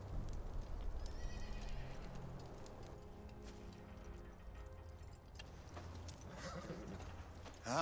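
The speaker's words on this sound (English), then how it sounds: "Finlay, get the horses tied up." Horses whinny and neigh several times over the steady clip-clop of hooves, heard as a film scene soundtrack at moderate distance.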